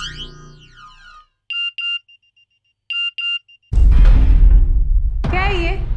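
A mobile phone ringtone sounds in a classroom as short, loud electronic tone bursts repeating in pairs, followed by a burst of loud noisy commotion.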